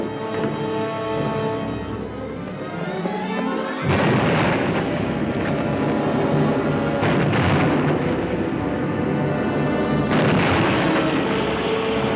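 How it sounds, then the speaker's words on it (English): Dynamite blasts in a 1953 film with a heavy booming explosion that thunders and rumbles on, with further rolling bursts over a dense, loud roar of debris and noise. "Dynamite!"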